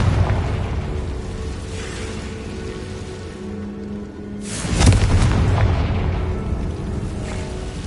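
A Confringo spell explodes in the video game Hogwarts Legacy, a sudden broadband blast at about the midpoint that swells out of a steady game-ambience rumble and then decays into a crackling tail. No one speaks.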